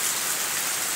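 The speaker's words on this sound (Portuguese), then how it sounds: "uma bela chuva caindo nesse momento" Steady rain falling in the Ceará countryside, a dense continuous hiss of drops on surfaces, close and even throughout with no voices.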